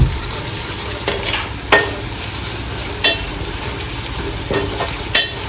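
Sliced onions fry over high gas in a pan for chicken biryani, giving a steady loud sizzle broken by periodic scraping knocks as a spoon stirs them. No one speaks.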